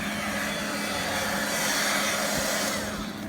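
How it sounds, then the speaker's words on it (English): A hair blow dryer runs steadily and loudly to dry a watercolor rose painting. The continuous airy roar holds at an even level throughout, with no talk over it. "if you don't want to hear the blow dryer blowing, then just mute it at this point"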